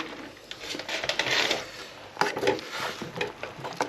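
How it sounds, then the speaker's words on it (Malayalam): Mozzarella cheese being stirred into a thickened cornflour mixture, a soft irregular scraping and clicking of a utensil against the pan, close and fairly quiet, with no talking. "ഇതിലോട്ട് നമ്മൾ ഒരു 100 ഗ്രാം ചീസ് മൊസറല്ല ചീസാണ് ഇതിലിട്ട് കൊടുത്തിട്ട് നമ്മളിതൊന്ന് മിക്സ് ചെയ്തെടുക്കാം"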